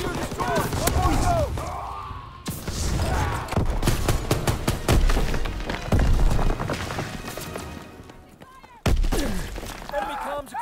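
Explosions and gunfire in the Call of Duty: WWII video game as enemy communications equipment is blown up, with loud booms and crackling fire bursts, and voices talking between the blasts.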